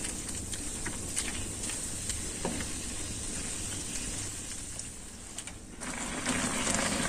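Pork intestine satay pieces sizzle steadily in sweet soy sauce in a pan, a continuous close crackling hiss with light stirring, growing slightly louder toward the end.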